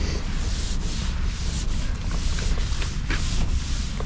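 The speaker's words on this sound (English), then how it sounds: "Really don't know how long you're supposed to scrub this for." Someone scrubs the paint of a 1964 Oldsmobile 98 with a continuous, close, loud rubbing hiss, broken by faint dips where each stroke changes direction.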